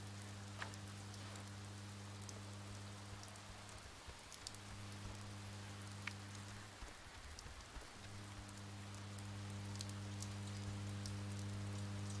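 A rainstorm in the video game Oxenfree patters steadily as a soft, even wash of rain on surfaces, with a low, constant tonal hum running underneath throughout.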